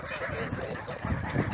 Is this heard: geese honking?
yes